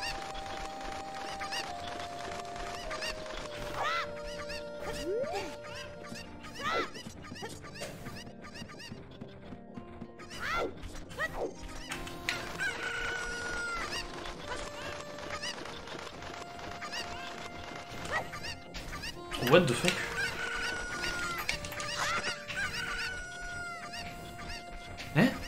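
Cuccos, the chickens of Ocarina of Time, cluck and squawk repeatedly over the game's audio. Calls come in irregular bursts across the stretch, with a louder outburst near the end.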